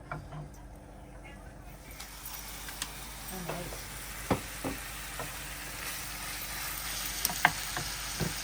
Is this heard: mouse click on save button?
no